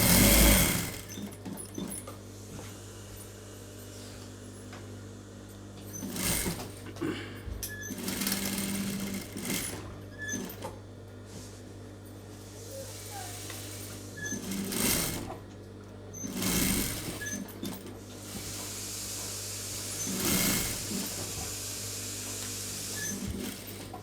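Sewing machine stitching blouse body fabric, running in repeated whirring bursts with short stops between them, a steady motor hum underneath, moderately close.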